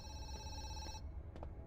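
Electronic telephone ringing in the horror video game Zoochosis, a steady tonal ring under a low rumbling background that stops partway, followed by a brief faint sound.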